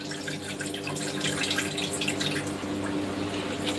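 Steady running water splashes continuously from a tap over tripe being rinsed in a sink, with no voices.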